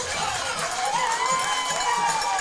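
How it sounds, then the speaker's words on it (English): Football crowd at a high school game between Tiffin Calvert and Monroeville cheers steadily and loudly after a touchdown, a dense, sustained roar of many voices with shouts rising above it and no break. "And the crowd loves it."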